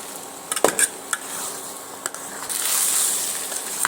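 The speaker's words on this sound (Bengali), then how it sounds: "এখানে 1/2 চা চামচ কাশ্মীরি লঙ্কা গুঁড়োটা দিয়ে আবারও আলুর সঙ্গে এইভাবে একটু আমি মিশিয়ে নিচ্ছি" Potatoes being stirred with Kashmiri red chili powder in a pan, with a few spoon clinks and scrapes against the metal and a soft sizzle that swells toward the end.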